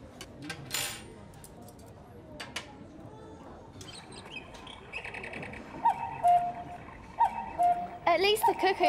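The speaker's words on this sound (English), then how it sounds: "At least the cuckoo clock's all right." A cuckoo clock calls inside a cartoon cafe, repeated short tonal cuckoo notes near the end that rise over softer ticking and background sounds, with voices speaking earlier.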